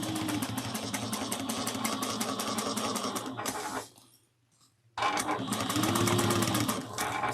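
A sewing machine stitches the seam of a bag in a fast steady whir. It runs continuously, stops for about a second, then resumes at a similar close, loud pace.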